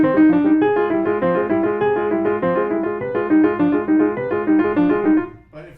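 Piano played with a tense, locked wrist gives a run of steady, evenly struck chords and notes, somewhat stiff and uniform in attack, heard alone without speech and ending abruptly.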